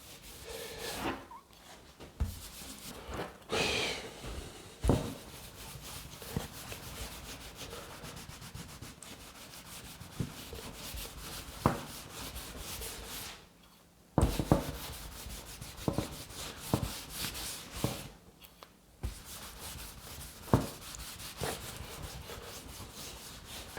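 Beeswax is rubbed by hand into a wooden door panel, giving a continuous close-up rasping, scrubbing friction with rhythmic back-and-forth strokes. It pauses briefly twice, and occasional louder knocks and bumps come through.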